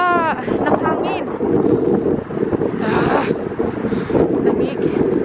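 Strong wind roars and buffets the microphone continuously in an open, icy area, with brief voices breaking through the gusts.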